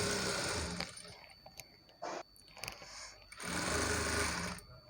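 Sewing machine stitching the side slits of a Punjabi dress, its motor whirring in two loud, close bursts with quieter handling noises and brief pauses between, no talk.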